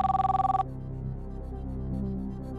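Ringback tone of an outgoing telephone call to Partur: a short burst of rapid, pulsing electronic ringing that cuts off abruptly, leaving a low background hum.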